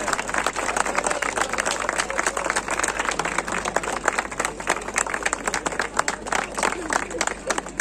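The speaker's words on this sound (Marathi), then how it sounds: "टाळ्या जोरात वाजल्या पाहिजेत" Dense, sustained applause from a large crowd fills the air at a prize ceremony for the girls' and boys' teams after a final match, a steady wash of clapping with no pauses.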